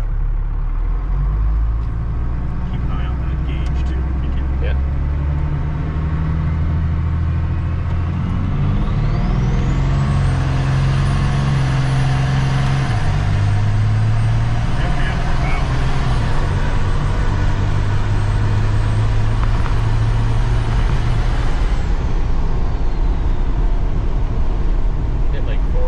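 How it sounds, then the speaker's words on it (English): A truck on a test run rumbles loudly and continuously for about half a minute, its low engine drone rising and settling through gear changes, with a faint high whine swelling in the middle and someone talking over it. "we're gonna do a run with the truck"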